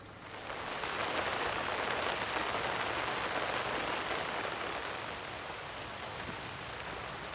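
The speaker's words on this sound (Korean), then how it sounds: "비는 더욱 많이 내리기 시작하는데" Steady rain falls during an outdoor freshwater fishing trip, a dense, even hiss of drops on surfaces that swells in the first second and then holds constant, with no voices.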